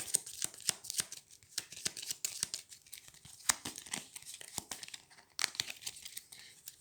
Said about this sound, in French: Je remélange.